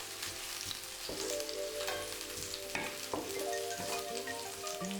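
Garlic and chili stir-frying in olive oil over medium heat in a pan, a steady close sizzle with a few scraping stirs, no voices.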